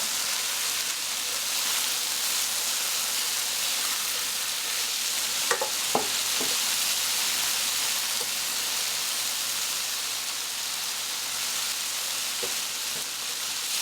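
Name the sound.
onions frying in bacon fat and oil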